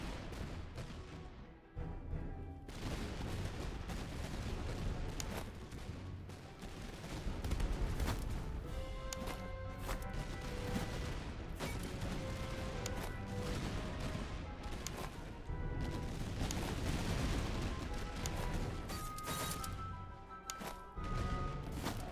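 Musket volleys ring out across a Master of Command battlefield, a sustained din of overlapping shots and crashes that rolls on for over twenty seconds with only brief lulls.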